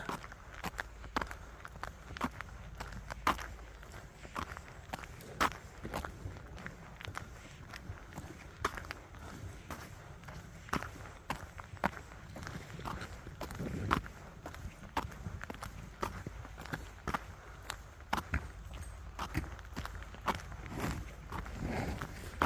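Footsteps crunch along a snowy path in the German countryside, a steady close-up rhythm of crisp treads that continues without pause and with no talking.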